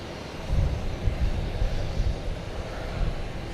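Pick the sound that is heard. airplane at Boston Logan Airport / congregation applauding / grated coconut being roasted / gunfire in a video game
airplane at Boston Logan Airport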